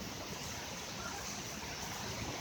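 Water from a waterfall under a campus bridge rushes in a steady broadband roar on an August night, continuous and moderately loud with no voices.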